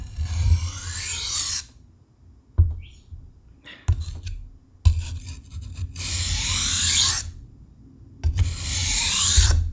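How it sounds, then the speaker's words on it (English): A knife blade is drawn repeatedly across a sharpening stone, giving close, raspy scraping strokes in uneven bursts with brief silent gaps between passes. "So we sharpen the entire knife."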